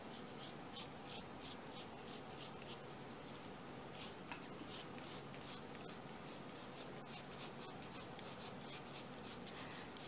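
A pen draws an outline on craft foam, giving a faint, continuous scratchy rubbing with small repeated strokes, close and quiet with no talking.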